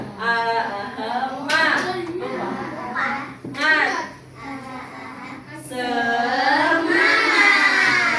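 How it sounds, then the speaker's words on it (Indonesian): Children in a classroom chant a spirit clap routine, clapping in rhythm with their sung syllables, the voices loud and the claps mixed underneath. "Tepuk semangat"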